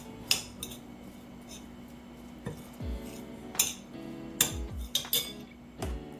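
A utensil mixes soaked saltfish in a bowl for ackee and saltfish burgers, giving sporadic metallic clinks and scrapes against the bowl at close range over a quiet background.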